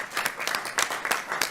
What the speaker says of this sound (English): So a little applause for a 100-year-old church.